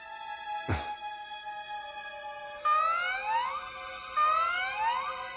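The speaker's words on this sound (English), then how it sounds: "That's the alarm." In the Valkyria Chronicles 4 video game, a loud alarm siren rises and falls in repeating sweeps, starting mid-clip after a sharp thump, with steady game background tone underneath and no talking.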